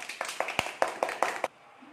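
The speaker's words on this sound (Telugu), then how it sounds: "క్లాప్స్ కొట్టండి" Children clap together in a primary school classroom: about seven quick, fairly faint claps in a steady rhythm, each sharp and distinct, stopping abruptly after a second and a half.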